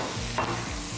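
Partly cooked onion and red pepper sizzle in a pan with a steady, soft frying hiss, broken by a brief stirring scrape near the middle, with no talk.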